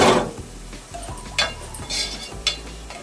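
A spoon scrapes and stirs masala, onion, tomato and salt in a cooking pot for a chicken pulao gravy, giving a few distinct scraping strokes over a low, steady background.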